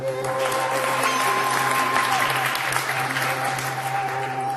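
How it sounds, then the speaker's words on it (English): Sustained applause from a magic show audience for a volunteer on stage, a dense, steady wash of clapping held at even loudness throughout, with a faint steady hum beneath. "Let's have a round of applause for Wilhelmina."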